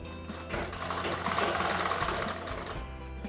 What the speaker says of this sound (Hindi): और सिलाई आपको कितनी गैप पर चलानी है उसको भी देख लीजिए